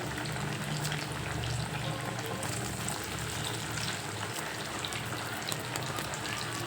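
Chana dal vadas (Kadle Bele Vade) fry steadily in hot oil, a dense, continuous crackle and sizzle like light rain, even and close throughout.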